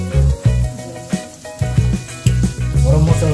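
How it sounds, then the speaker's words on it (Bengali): Onion, chili and cumin pastes frying in a pan for a beef dish: a loud, close sizzle broken by several short bursts as the pastes go in and get stirred. "এখন একে একে সব মশলা দিয়ে দিচ্ছি। পেঁয়াজ বাটা, মরিচ বাটা,"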